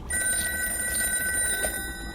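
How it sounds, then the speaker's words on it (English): A telephone bell rings in a steady, continuous ring with bright sustained tones, loud and close, with no talking over it. "A ringing phone."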